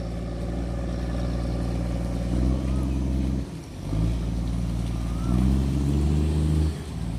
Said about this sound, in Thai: หัวเรือล่างดึงเสียงเครื่องลั่นๆ